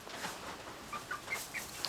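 A small backyard flock of four chickens clucks softly over mealworms, short high calls popping up close against a steady murmuring background.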